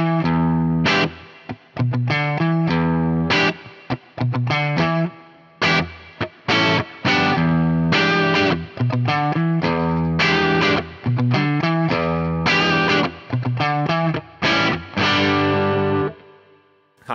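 Electric guitar through a Boss Katana-Head MKII amp with a plate reverb effect plays a distorted run of chords and notes, loud and up close, with short breaks where the reverb tail rings out.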